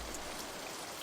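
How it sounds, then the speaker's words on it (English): Steady rain falls at night in a radio drama, a dense, even hiss of drops on surfaces filling the short stretch with no voices. "The night had turned to rain."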